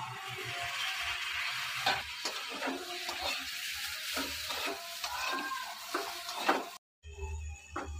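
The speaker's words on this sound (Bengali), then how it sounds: "জলটা দিয়ে দিলাম, একটু শুকিয়ে গেছে, ভালো করে কষিয়ে নেব" Masala being stirred and fried in a pan after a splash of water, with a steady sizzle and repeated scraping strokes of a spoon, close up, a brief gap near the end before the sizzling resumes.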